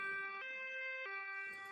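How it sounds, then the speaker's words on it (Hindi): Animated ambulance siren from a Hindi cartoon, a clean electronic two-tone wail alternating between high and low pitches in a steady cycle, clear and alone. "एम्बुलेंस लाडो को लेकर अस्पताल की तरफ निकल पड़ती है।"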